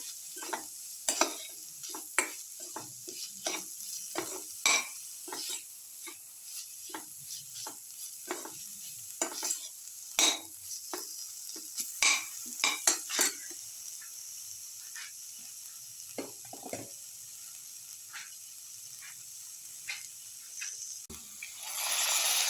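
Salt being mixed into a grated coconut and tomato dip, a long run of irregular wet clicks and scrapes from stirring close by, fairly quiet, with no talking.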